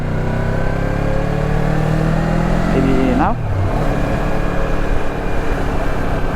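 A motorcycle engine revs up loudly and close, its pitch climbing, then drops as a gear changes and the engine settles; a voice speaks briefly over it.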